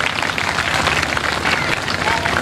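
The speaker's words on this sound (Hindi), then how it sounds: "ताली तो बजा दो भैया।" A crowd at a public talk applauds in a dense, continuous wash of clapping that stays loud and even throughout, with voices mixed faintly beneath it.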